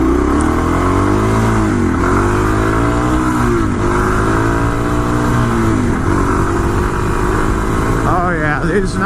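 A Suzuki DRZ400 dual-sport motorcycle on knobby tires rides over dirt, its engine droning loudly and shifting pitch as it revs and eases, with heavy wind rush throughout.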